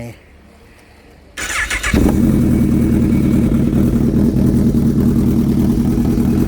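Honda CB1000R motorcycle fitted with a split exhaust and two catalytic converters starts up and settles into a loud, steady, slightly uneven engine rumble right up close, after a quiet moment at the start.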